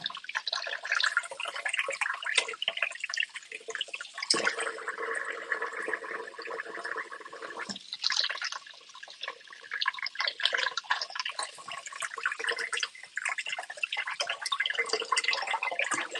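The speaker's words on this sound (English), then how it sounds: "I'm going to wash my hand and then we will come back to do for sausage bun" Water runs steadily from a kitchen tap while hands are washed between baking steps, a close, continuous splashing hiss with brief shifts as the hands move under the stream, no talk.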